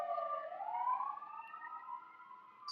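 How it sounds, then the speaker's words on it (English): An emergency vehicle siren wails at a distance, one long rising and slowly wavering tone that stays faint and steady as it passes, with no voices over it. "I just want the siren to pass"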